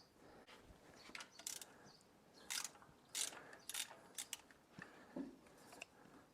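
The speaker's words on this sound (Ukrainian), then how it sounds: "Тут теж на 13 головка. Зараз відкручуємо" A ratchet with a 13 mm socket loosens bolts on the cylinder head of a Lovol 244 tractor, making quiet close bursts of rapid clicking ratchet strokes separated by short pauses.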